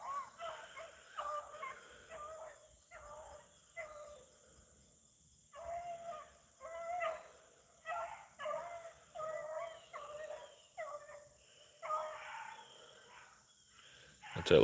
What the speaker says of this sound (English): That's that little willow pup there squalling.